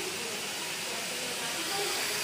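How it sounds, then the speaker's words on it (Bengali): Potato and snake gourd go into a hot pan with onion, chili and water, giving a steady, close sizzling hiss throughout. "তো এই অবস্থায় এখন ভেজিটেবলগুলো দিয়ে দিব"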